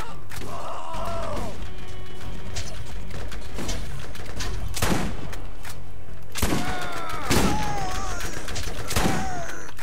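Gunfire in the video game Borderlands 2: repeated bursts and sharp shots with crashes and thuds, loud and close, scattered across the stretch and mixed with game noise and a few tonal effects.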